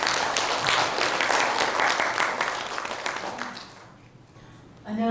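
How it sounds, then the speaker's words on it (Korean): An audience at a Busan World Expo bid book-launch event applauds to welcome a speaker, loud steady clapping that fades out over several seconds before a voice begins. "박수로 맞이해 주십시오."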